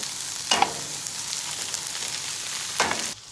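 Meat sizzles steadily in a pan with rosemary sprigs, a constant close frying hiss broken by two brief louder scraping stirs.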